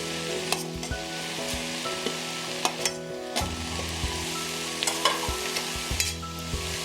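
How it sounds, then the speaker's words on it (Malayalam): A dried prawn and drumstick stir-fry with spice paste is stirred in a pan, a steady sizzle broken by repeated scraping knocks of the spoon at an uneven rhythm, close and clear. "നന്നായി ഇളക്കി കൊടുക്കുക."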